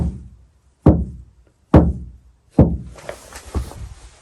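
Three dull, muffled knocks on a campervan panel fitted with a sound-deadening mat, evenly spaced, each a short thud that dies quickly, followed by faint rustling.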